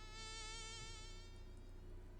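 A mosquito in an anime scene whines with a thin, steady buzz over faint background sound, then fades in the second half.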